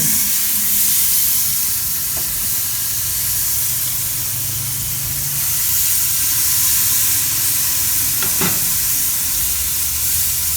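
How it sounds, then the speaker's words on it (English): Seasoned New York strip steaks sizzle on an Oklahoma Joe's grill, a steady loud hiss and crackle with an occasional faint tap of metal. "I have a couple of New York strips that I have seasoned, and this is going to be christening our grill"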